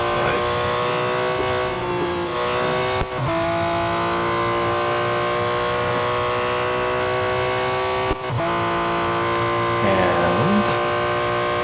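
A race car engine in the Real Racing 3 game at Le Mans drones steadily at high revs through the Dunlop chicane, with a couple of brief gear-shift dips and a tire squeal late, loud and continuous throughout.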